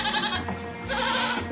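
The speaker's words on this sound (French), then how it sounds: "On voit la chèvre qui court" Goat bleating nearby in the open, two drawn-out wavering bleats with a brief gap between them, fairly loud.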